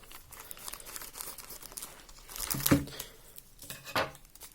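A light plastic parcel from AliExpress is handled and cut open with scissors, giving soft crinkling and rustling with a couple of louder crisp tears near the middle and end, close and fairly quiet.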